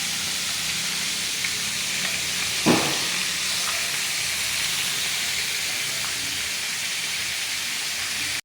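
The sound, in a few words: frying food in a kawali (wok-like pan)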